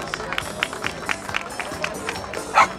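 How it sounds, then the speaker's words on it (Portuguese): Loose rhythmic clapping from a gathered crowd at a pet parade for the dog Diamante, steady claps under background chatter, with a louder burst near the end. "Palmas para Diamante, palmas!"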